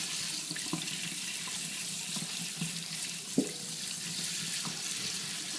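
Running tap water rinses aquarium plants, a steady broadband hiss of flowing faucet water with small clunks and splashes as the plants are moved under the stream, close and continuous.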